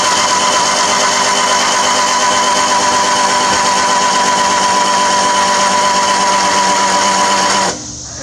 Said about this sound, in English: It's called a power winch, just an up-down toggle.